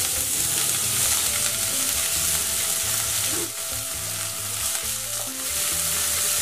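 Vegetables for veg momo filling fry in hot oil in a wok, a steady loud sizzle with stirring scrapes running throughout and no talk.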